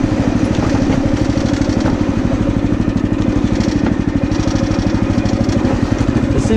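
A homemade motorized lawn chair, built from mower parts, drives through woods with a loud, steady engine drone and rapid pulsing firing throughout, close and continuous with no pauses.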